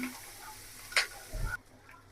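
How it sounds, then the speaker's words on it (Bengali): Soft frying sizzle of chopped onions, green chillies and cardamom in a pan, steady and low, with a brief clink and a short burst of louder crackling before it quiets. "হালকা লাল লাল করে ভেজে নেব"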